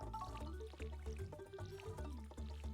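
Crops being watered in the video game Stardew Valley: a watering can splashes and drips in repeated short bursts over a soft musical background, gentle and rhythmic.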